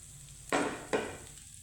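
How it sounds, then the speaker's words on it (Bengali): Chopped green chilli and grated ginger dropped into hot white oil: two sudden bursts of loud sizzling, close by, each fading quickly, with no voices. "আমার তেলটা গরম হয়ে গেছে এখন আমি দিয়ে দিব এখানে কাঁচা লঙ্কা কুচি দিয়ে দিব আদা গ্রেট করে রাখা"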